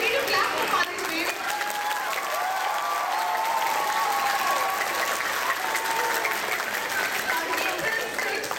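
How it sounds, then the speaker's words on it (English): Audience applause at a school event, continuous dense clapping with some crowd noise and a few voices mixed in, steady and fairly loud from start to finish. "we need to clap for Father's name"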